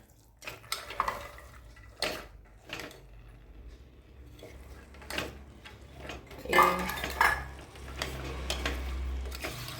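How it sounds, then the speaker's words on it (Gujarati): Green peas tipped into a cooking pan while making sev usal, with scattered clatter, scraping and stirring against the pan over a low background hum, a few louder clanks midway. "પછી એમાં આપણે આ વટાણા નાખી દેવાના છે, લીલા વટાણા"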